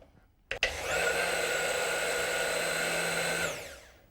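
A hand blender purees tomato soup enriched with cream, a steady high motor whine lasting about three seconds, starting abruptly after a clunk and winding down at the end.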